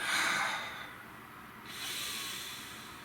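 A deep breath drawn in and let out at close range, a breathy hiss that swells, dips briefly, then rises again in a long exhale, with no talking over it.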